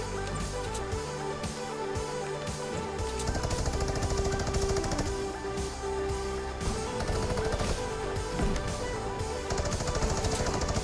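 Rapid automatic gunfire in a Fortnite battle royale match, dense repeated shots running nearly the whole time over steady game music and sound effects, no talking.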